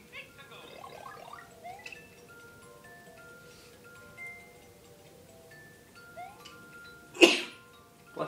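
A single sharp sneeze bursts out near the end during a Super Mario Maker 2 play session, loud and brief against quiet game music with faint background chatter.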